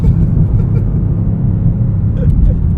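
A 2025 BMW M5 accelerates hard, its engine building boost as a loud, dense low rumble that holds steady from inside the car, with no talking over it.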